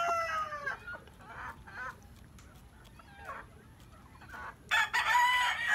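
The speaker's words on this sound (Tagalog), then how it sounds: "Lahat ng mga manok ko nandito." Chickens cluck softly in bursts nearby, then a rooster crows loudly at the end, with other birds calling in the background.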